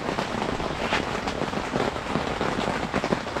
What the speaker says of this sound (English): I hope y'all can hear me over the rain.